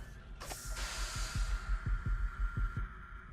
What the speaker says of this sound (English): Hopefully that heartbeat noise stops soon.